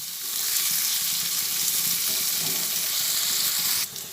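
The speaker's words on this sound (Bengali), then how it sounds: "আদা পেঁয়াজ আর রসুন অল্প করে ভেজে নিয়ে" Ginger, onion and garlic fry in a pan for an Afghani egg curry, giving a loud, steady close-up sizzle that runs unbroken before cutting off abruptly near the end.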